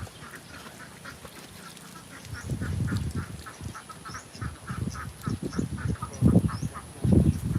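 Several ducks quack repeatedly nearby, their calls getting louder and more frequent over outdoor ambience.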